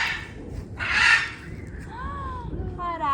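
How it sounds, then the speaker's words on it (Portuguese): Macaws in a lush nature park in Brazil give harsh, raspy squawks, one burst loud and close, with thinner calls following over a steady outdoor background. "Araras."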